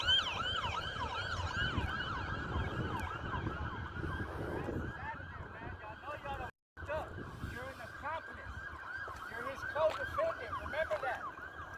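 A police car siren wailing, rising and falling repeatedly alongside traffic noise, with someone talking over it and a brief dropout in the middle.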